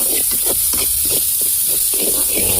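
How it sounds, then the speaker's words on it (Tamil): Chopped onion sizzles with curry leaves and cumin in a hot pan for a Tamil capsicum gravy, a steady loud hiss broken by repeated scraping stirs. "ஒரு பெரிய வெங்காயத்தை குட்டி குட்டியாக கட் பண்ணி வெங்காயம் உடனே வதங்கிருச்சு"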